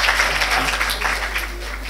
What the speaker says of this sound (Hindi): ज़रा तालियों से शुक्रिया का ज़रा इजाफा कर दीजिए आप लोग